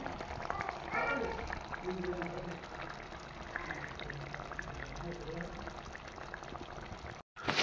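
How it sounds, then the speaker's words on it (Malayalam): Kerala-style karimeen mappas, a pearl spot fish curry, bubbles steadily in a pan, a continuous close simmer with voices murmuring in the background. "ഗൈസ് അപ്പോൾ നമ്മുടെ ഐറ്റം ഇവിടെ തിളച്ച് മറിയുന്നുണ്ട് കേട്ടോ ഗൈസ്"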